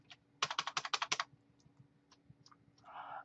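Keyboard typing while writing HTML tags: a quick run of about eight close, crisp keystrokes, then a few scattered single clicks and a short soft rattle near the end.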